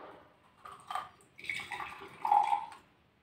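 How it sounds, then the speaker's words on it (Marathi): Water trickles and splashes out of a freshly cracked coconut into a glass in a home kitchen, in a few uneven gurgling bursts with quiet gaps between them. No one speaks. "पाणी किती निघतं बरं"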